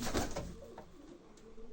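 A black pigeon coos softly and close by, giving a short, low, throaty murmur over a quiet background.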